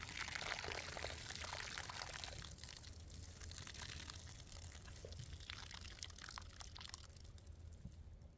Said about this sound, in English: Potatoes are done cooking. Let's get those drained right here into the lake.